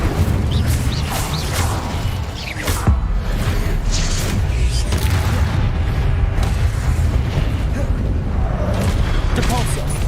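Spells including an Incendio fire spell cast in Hogwarts Legacy, a dense run of booming blasts, whooshes and bursts layered over continuous game sound effects, loud and close with a voice talking throughout.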